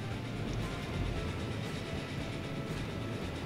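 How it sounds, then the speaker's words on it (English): The 442 Atlantic train in Transport Fever 2 runs steadily, a continuous rolling rumble with faint clickety-clack of wheels on rails, constant and moderately loud throughout. "The 442 Atlantic, a very, very striking train."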